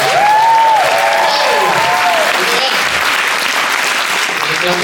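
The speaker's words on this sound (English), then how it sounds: "You're clapping for yourselves" Loud applause and cheering from a standup comedy audience at the Novato Theater, a dense continuous roar of clapping close up, with voices and a whoop rising over it early on.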